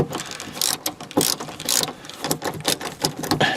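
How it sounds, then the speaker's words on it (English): A ratcheting screwdriver backing out dome light screws in a 1998 Toyota Camry, giving dense, rapid pawl clicks close up and fairly loud, continuing steadily with no talking. "the ratcheting screwdriver that we talked about before"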